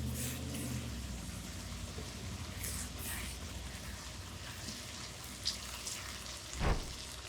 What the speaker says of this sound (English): reduce it down, just let it simmer on low for a couple minutes